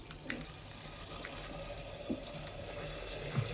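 Cold milk poured for a mango drink makes a faint, steady liquid pouring hiss with a few soft splashes and clinks, heard alone at low volume.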